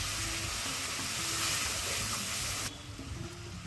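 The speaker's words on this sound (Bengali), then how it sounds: "খুন্তি দিয়ে মশলাটাকে কষে নেব।" Spice paste for a prawn curry fries in a pan while a spatula stirs it, making a steady, dense sizzle with faint scraping that drops noticeably quieter near the end, close and with no one speaking.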